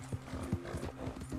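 Galloping horse hooves in the video game Red Dead Redemption: a steady, rhythmic clip-clop of hoofbeats running continuously at moderate level over a low background hum.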